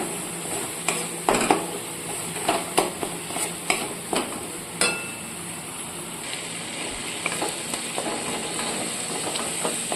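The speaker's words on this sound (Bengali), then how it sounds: "এরপর এগুলো খুব ভালো করে একসাথে কষিয়ে নিতে হবে" Spices with a spoonful of coriander powder are sautéed in a pan, giving a continuous hiss with scattered scraping strokes of a spoon against the metal, close by and without voices.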